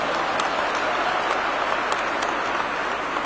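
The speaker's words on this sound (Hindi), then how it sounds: "जोरदार तालियों से स्वागत और अभिनंदन करेंगे" Audience applause welcoming Indian Home Minister Amit Shah at a public event in Jaipur, a dense steady wash of clapping from a large crowd that holds at an even level throughout.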